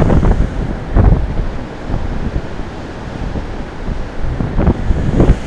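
Strong wind buffets the microphone in loud, gusting roars beside one of the tallest waterfalls in Canada, about 280 metres high, with a rushing water wash underneath.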